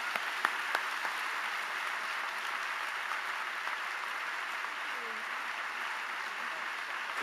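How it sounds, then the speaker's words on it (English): Steady applause from a university audience welcoming speakers onto a stage at the University of Texas, a continuous dense clapping that holds at an even level throughout with no voices over it. "Please join me with a round of applause welcoming Secretary Blinken and Senator Hutchison for them to take the stage."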